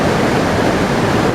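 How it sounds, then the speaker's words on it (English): Yosemite Creek rushes just above Yosemite Falls, a loud, dense, unbroken roar of churning water heard close up, with no other sounds cutting through. "This is Yosemite Creek just above Yosemite Falls"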